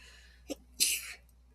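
One sharp sneeze bursts out loudly after a brief intake of breath, then fades into quiet room noise.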